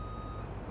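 Reversing beeps from a truck in the game Farming Simulator 19, a steady electronic alarm tone sounding continuously over engine rumble, fairly quiet.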